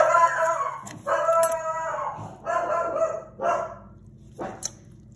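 A dog barks indoors in a home kitchen where turkey meat is being cut up, with several loud, close bark bursts spaced across a few seconds.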